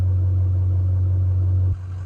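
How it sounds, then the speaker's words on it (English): A truck engine runs steadily with a strong low idle hum, then drops abruptly in level near the end as the engine note changes. "Hear my truck in the background?"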